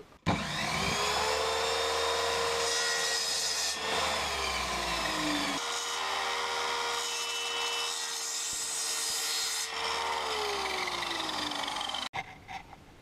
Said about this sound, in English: At this point, we have to cut the dowels